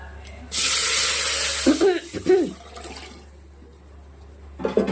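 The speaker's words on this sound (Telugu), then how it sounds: "మనం ఆల్రెడీ రసాన్ని పిసికి పెట్టాం కదా, దాన్ని ఇందులో వేసేయాలి" Rasam poured into a hot pan makes a loud, close hissing rush that lasts about a second, then tapers into softer bubbling with a few clanks and faint background sounds.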